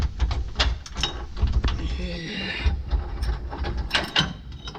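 Mechanical clicks, ratcheting and scraping as a bolt is worked out of the cross member on a Dodge Viper under repair for a broken differential, close and busy with irregular metallic taps and a brief squeal midway.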